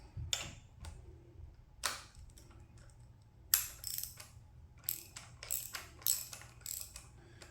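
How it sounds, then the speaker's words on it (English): A ratchet tightens the intake sprocket bolt on a forged VQ37VHR engine build, with quick runs of clicks coming in uneven bursts among small metallic knocks, close by and with no speech. "go ahead and feed this intake sprocket bolt in. My trusty ratchet there."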